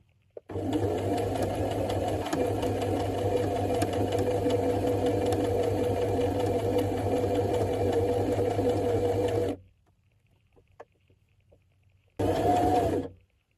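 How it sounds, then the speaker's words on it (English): A sewing machine stitches a buttonhole along a guide with a loud, steady, close mechanical whir. It pauses briefly, then starts again for a short final burst. "we're going to use this guide and we're going to start sewing up"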